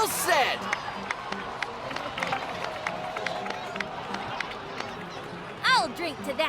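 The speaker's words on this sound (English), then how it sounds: "please give another round of applause for them." In the Genshin Impact video game, a crowd claps and cheers with scattered sharp claps and bursts of cheering under ongoing talk, rising louder near the end.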